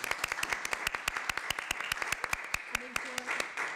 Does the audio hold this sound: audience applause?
yes